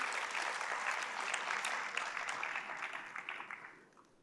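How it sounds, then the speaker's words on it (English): Auditorium audience at a university conference roundtable applauds the moderator, a dense, sustained clapping from a large crowd that holds steady for a few seconds before fading out at the end. "A round of applause for the moderator,"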